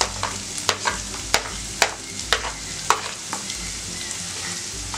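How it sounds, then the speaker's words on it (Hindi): Onion added to ginger and garlic already sizzling in a pan while cooking Manchurian, frying steadily with a string of clicking spatula stirs against the pan, close and fairly loud, no talking. "तो अब इसमें हम प्याज डाल देते हैं।"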